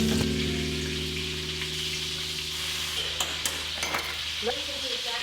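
Food fries in lard in a pan with a steady, even sizzle, broken near the end by several scraping stirs of a utensil. No one speaks.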